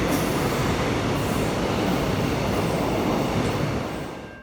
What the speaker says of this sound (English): Some trains do pass through this station during peaks on weekdays